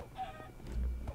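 A short burst of video game chicken clucking, close and clear, with a low rumble underneath.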